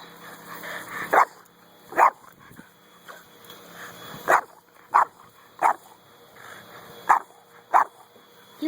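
A dog barks during frisbee fetch play in single sharp, loud bursts, about eight of them spaced a second or so apart, with soft background noise between.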